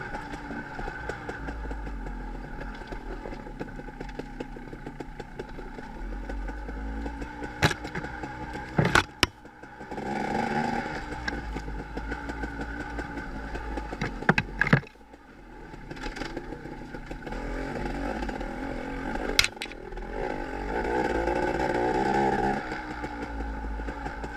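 Two-stroke dirt bike engine on a forest off-highway trail, running steadily and close with a sputtering, uneven note, a few sharp pops and louder surges of revving along the way.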